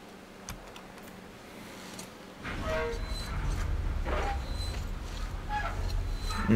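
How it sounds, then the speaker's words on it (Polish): A locomotive pulls out in the video game Metro Exodus Enhanced Edition: after a quiet start, a low rail rumble rises and holds steady, with faint clanks and ticks on top. "No i teraz możemy lokomotywą wyjechać."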